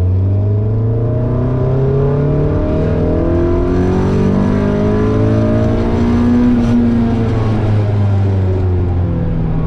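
A naturally aspirated Mazda Miata engine with VVT revs steadily on a dyno, its loud harmonic drone climbing and falling in pitch throughout as the engine sweeps through its range, with no voices.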